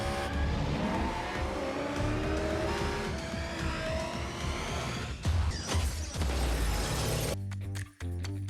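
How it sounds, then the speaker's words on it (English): Luxury cars race through Mexico in a video game, with continuous engine roar, tire squeals and skids, a crash-like shatter near the end, then a sudden cut to a quieter engine hum. "Luxury cars, Mexico,"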